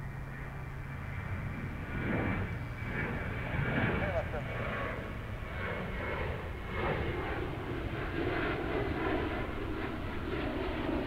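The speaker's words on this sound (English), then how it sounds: "Alaska Flight 756 on its way to Seattle, a 737-900." An Alaska Airlines Boeing 737-900 jet roars past at DFW airport, a steady loud engine rumble and whine that swells and holds, with speech audible over it.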